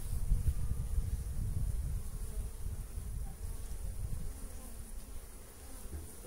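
Honeybees buzz steadily and densely around an open hive during a March colony inspection, a close, continuous low drone with no talking.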